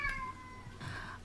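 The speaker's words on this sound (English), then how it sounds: "I plan to not edit out as many of the cat meows as I usually do." A pet cat meows twice in the background, a short call near the start and a longer one toward the end, both faint and clearly audible against a quiet room.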